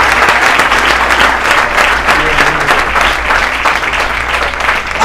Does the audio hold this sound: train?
no